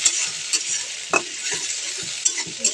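Prawns fry with lightly browned onions in a pan, a steady close sizzle broken by soft scraping stirs and small pops, with no talking.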